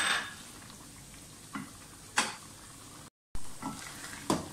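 A soft, steady sizzle from a karahi runs throughout as cream and yogurt cook down with mutton, broken by a few scraping stirs and clinks. No voices are heard.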